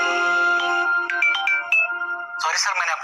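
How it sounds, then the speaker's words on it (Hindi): A mobile phone's melodic ringtone plays loud and close, a chain of bright tones and chirps lasting about two seconds before a voice starts speaking over the end. "कि तभी उसके मोबाइल की रिंग बजने लगी।"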